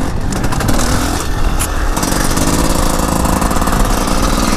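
A motorcycle engine in fourth gear drones steadily at high revs, loud and continuous with a rough mechanical buzz throughout.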